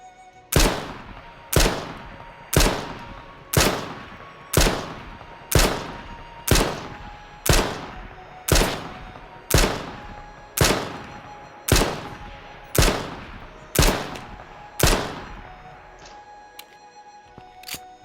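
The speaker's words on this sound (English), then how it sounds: "Now we're going to do a test with the M9. Again, first ADSing, then hip firing, and then first person hip fire." The M9 fires in the video game H1Z1 as fourteen evenly spaced single shots, sharp and loud with short decaying tails, a steady rhythm about once per second and no talking.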